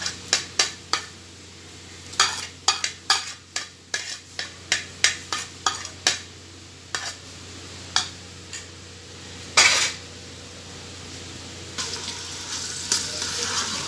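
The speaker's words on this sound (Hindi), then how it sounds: "3 से 4 मिनट तक हम जिंजर और गार्लिक को फ्राई करेंगे" Ginger garlic paste frying in oil for Lahori chana, with a steady sizzle under repeated sharp scraping taps of a spoon against the pan, followed by a brief louder burst of sizzle and then a softer continuous hiss.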